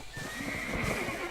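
A horse neighing in Black Desert Online, a single loud, close whinny with a wavering, drawn-out pitch lasting about a second.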